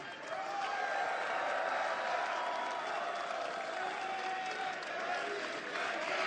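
A wrestling arena crowd at a TNA event claps and cheers in a dense, sustained roar of applause that holds steady throughout, filling the hall.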